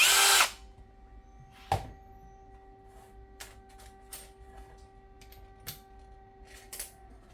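A ProCraft PA18LiBL brushless cordless screwdriver on its second speed drives a 10 cm self-tapping screw, giving a short loud whir at the start followed by scattered faint clicks and knocks in a quiet room.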